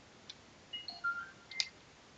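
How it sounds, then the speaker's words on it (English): A phone notification goes off: a quick series of short, bright electronic beeps over about a second, close and fairly loud against a quiet room. "Keep forgetting to turn my notification sound down on my phone."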